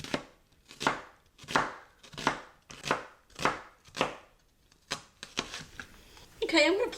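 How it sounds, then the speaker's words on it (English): A knife slices through a halved onion on a cutting board, about eight crisp, evenly spaced chopping strokes close up, with a brief burst of speech at the end. "I'm just going to make slices"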